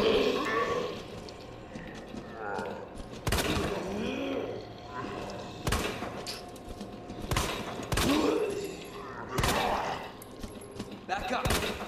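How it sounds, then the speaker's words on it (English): Sharp gunshots ring out at irregular intervals in the Resident Evil 2 video game, with mechanical clatter, game sounds and a person talking in between. "There you go, we're shooting now."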